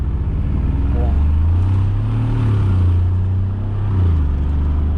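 A Mercedes G500 4x4² engine in sport mode rises in a loud, low revving surge, climbing and easing back over a few seconds, heard from inside the cabin with someone talking over it.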